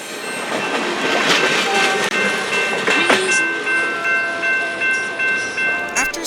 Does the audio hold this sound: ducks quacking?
no